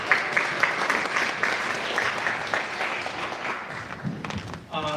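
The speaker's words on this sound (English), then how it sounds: "round of applause for being here today" Applause from an audience at a public input meeting on pedestrianizing Moody Street, moderate and steady clapping that lasts a few seconds and then thins out, with some talk near the end.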